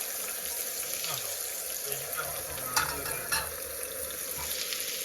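A coconut mixture is stirred and fried in a pan, giving a steady close sizzle with scraping stirring strokes throughout and a couple of sharper clinks near the middle.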